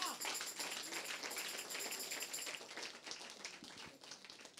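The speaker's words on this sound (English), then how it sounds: "Please clap for her." An audience at a church women's gathering applauds a staff member: dense, steady clapping heard faint and distant, thinning slightly toward the end.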